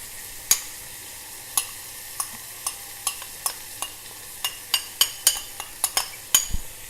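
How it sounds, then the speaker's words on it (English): Peas and carrots in butter stirred in a pan: a soft sizzle under repeated crisp clinks and scrapes of a utensil against the pan, irregularly spaced and growing busier toward the end, close by. "I'm just going to stir that a bit"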